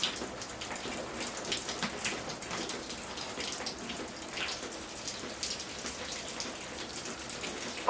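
Soap and water are sprayed onto a dwarf schefflera bonsai tree, making a soft, continuous hissing patter like light rain, fairly faint with small irregular bursts throughout.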